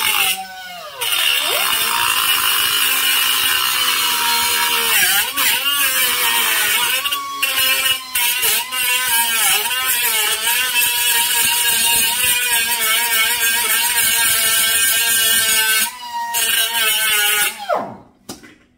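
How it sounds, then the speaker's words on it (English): Power tool cutting out MIG welds on a Datsun Z frame rail, a loud continuous high whine with wavering pitch and brief dips, running close for nearly the whole stretch before cutting off. "Cut another MIG weld out."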